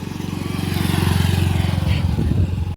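A motorcycle on a village road, its engine a loud, steady low throb with a fast pulsing beat that holds close throughout, then cuts off abruptly at the end.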